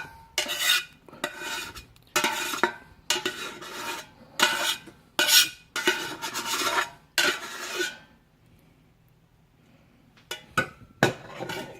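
Repeated rasping strokes of a utensil scraping soft Mediterranean-style cheese, about nine close, loud scrapes in a steady rhythm, then a pause and a few quicker short scrapes near the end, with no talking.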